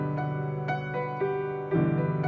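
Piano plays back-to-back tutorial sections of a song, a steady sequence of struck notes and chords with sustained tones, close and moderately quiet, with no voice over it.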